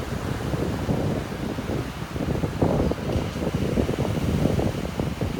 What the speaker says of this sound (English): Definitely windy.